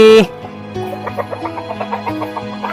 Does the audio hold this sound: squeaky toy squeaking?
no